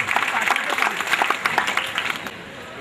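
A crowd applauds at a Swaminarayan temple idol-installation festival in Vagra, with dense, sustained clapping, fairly loud and close, and a voice heard through it.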